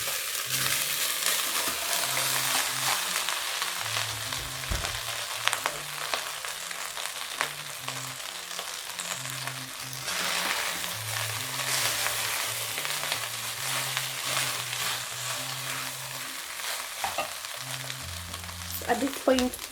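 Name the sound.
beef and vegetable fried rice frying in pot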